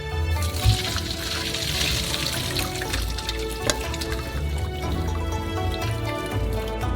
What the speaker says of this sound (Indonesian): Lalu tiriskan melalui saringan.